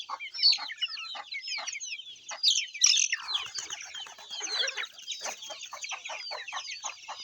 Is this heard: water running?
no